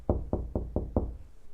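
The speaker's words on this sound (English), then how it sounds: "did you hear someone at the door?" Five evenly spaced knocks sound on a door, firm and close, with nothing else heard.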